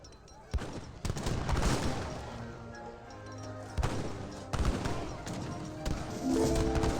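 Repeated heavy booming blasts and crashes of heavy cannon fire in an Age of Empires 3 battle, several sharp explosive hits spread across the clip, with a voice talking over the din.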